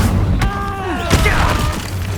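An Incendio fire spell is cast in the Hogwarts Legacy video game: a loud booming burst followed by a second impact, with whooshing, sweeping magical tones trailing between them over a dense game soundscape.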